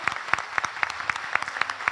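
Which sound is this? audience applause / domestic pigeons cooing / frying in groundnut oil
audience applause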